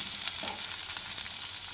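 Okra (bhindi) frying in a pan for a chicken bhindi gosht curry, a steady bright sizzle that holds even and unbroken throughout, with no voices.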